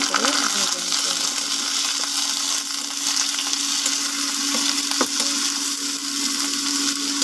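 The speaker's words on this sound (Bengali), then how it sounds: "তারপরে আমি দিয়ে দেব চিংড়ি মাছ। হালকা করে ভেজে নিতে হবে।" Prawns fry gently in a wok with onions that have been browned, giving a steady, soft sizzle and hiss with a few light scrapes, close by and unchanging in level.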